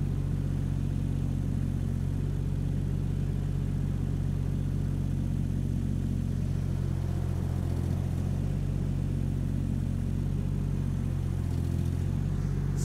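A digger's diesel engine runs continuously and close by while it digs a trench for feeder cable. The heavy low rumble rises slightly under added throttle, and faint knocks of the bucket can be heard, with no voices.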